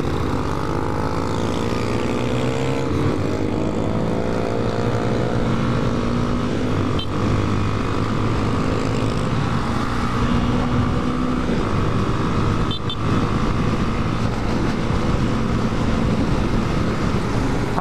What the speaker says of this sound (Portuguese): Mano, é muita moto, rapaziada.